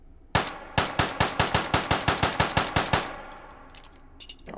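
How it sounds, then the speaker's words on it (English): Rapid gunshots from a gun fired in the VR video game Hot Dogs, Horseshoes & Hand Grenades, about fifteen sharp reports in a steady burst, loud and close, then a few quieter mechanical clicks. "let's fire off a couple rounds"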